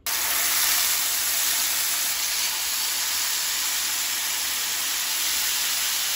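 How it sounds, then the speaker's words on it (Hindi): Stuffed lemon herb chicken frying in a pan gives off a steady, loud, even sizzle with hiss throughout, no talking over it. "इसको अब हम इसको फ्राई कर लेते हैं।"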